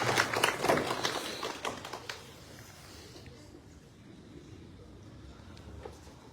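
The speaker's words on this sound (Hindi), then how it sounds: "एक बार सारा सदन जोरदार तालियों की गड़गड़ाहट के साथ" Audience applause fills a hall at the inauguration of an INTACH heritage chapter in Dundlod, loud and dense for about two seconds before quickly fading to a quiet room murmur.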